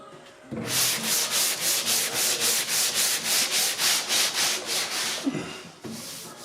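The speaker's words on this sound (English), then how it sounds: "I'm going to have to stay with the 60 grit" Coarse 60-grit sandpaper scrubs the body of a Ford ZF Fairlane under restoration in steady, close back-and-forth strokes, about a dozen rhythmic passes before stopping with a brief knock.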